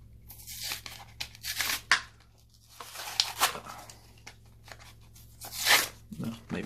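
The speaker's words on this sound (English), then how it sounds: "What I'll do now, I will unbox this." Packaging on a boxed Megabass speaker being torn open, with several sharp, close tearing and crinkling bursts spread across a few seconds and quieter handling between them.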